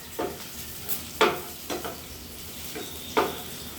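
Greens wilting in a hot pan for a tamarind-ginger curry, with a handful of soft stirring scrapes and faint sizzles spaced a second or so apart, close and quiet.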